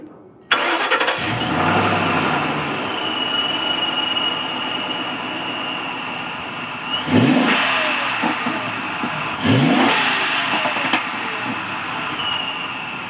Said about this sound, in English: So I will give you a little bit of a rev here, and we'll see kind of how she looks and sounds.